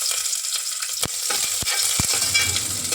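Mustard seeds, fresh curry leaves and onion sizzle in a little tempering oil in a pan, a bright crackling fizz broken by sharp pops and stirring clatters near the pan.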